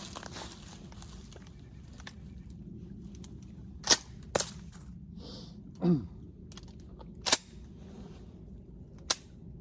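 A Ward Western Field 16 gauge shotgun, made by Stevens, clicks without firing: several sharp, isolated metallic snaps spaced a second or more apart over quiet outdoor background noise, with a soft breath or gasp among them.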